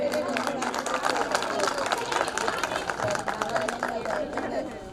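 Dense, continuous applause from a crowd at a Jain temple foundation-stone ceremony, steady and fairly loud throughout, mixed with background chatter and a voice speaking over it.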